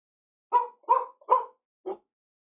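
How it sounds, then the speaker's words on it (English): A dog named Lexus barks four times in the background, three quick woofs close together followed by a single softer one after a pause. "That was actually my dog Lexus barking in the background."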